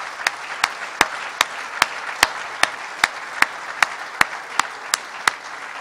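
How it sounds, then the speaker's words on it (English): An audience at a facility opening event claps in a slow, even, synchronized beat, sharp regular claps spaced under half a second apart over a constant background wash of crowd noise, with no talking. "please join them in giving me a round of applause for what has come to life."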